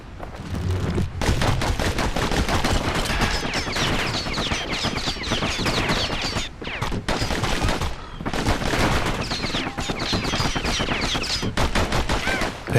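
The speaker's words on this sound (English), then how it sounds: "Know what's better than having a slinger pistol in a fight? Having two." Rapid bursts of dual slinger pistol fire from the video game Bastion, a dense, loud fusillade of shots crackling almost continuously with brief pauses, carrying no speech.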